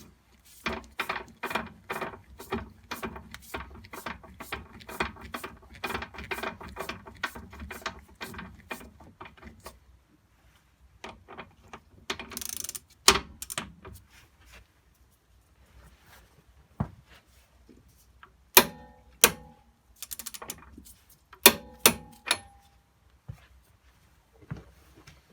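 Ratcheting torque wrench tightening the rear hub nut on a Renault Clio II, a dense run of close mechanical clicks for about ten seconds, then sparser scattered clicks and clunks with pauses between.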